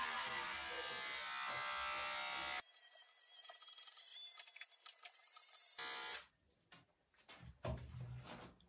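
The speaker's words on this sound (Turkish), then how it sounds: "Makine biraz girmekte zorlanıyor bazı yerlere." An electric hair clipper buzzes steadily while shaving a head, then breaks into uneven, choppy bursts as it snags on some spots; close and fairly loud, with no talking.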